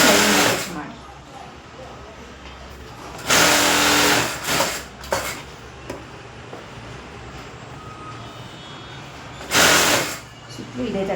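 Sewing machine stitching lining onto a blouse, bursts of fast mechanical whirring that start and stop in short runs, heard close up over a steady background.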